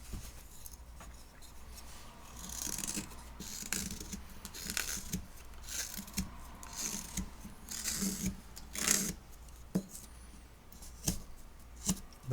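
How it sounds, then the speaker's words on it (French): Knife blade carving a basswood duck figure at a workbench, giving repeated short scraping and shaving strokes in an uneven rhythm, close and fairly quiet, with no one speaking. "on va donner le relief de l'animal avec la lame de couteau"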